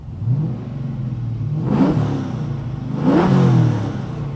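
A 1969 Camaro engine revving twice through a custom TIG-welded 3-inch exhaust with Borla mufflers, each rev rising in pitch then falling back to a deep rumbling idle, close and loud.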